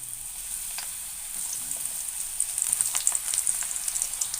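Ragi onion pakoda deep frying in hot oil, a soft continuous sizzle with crackling bursts that grow busier toward the end, fairly quiet and with no talking.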